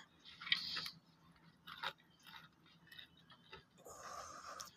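Fish-oil fritters being eaten with rice, close and quiet chewing in short bursts with brief gaps and soft crunches between them.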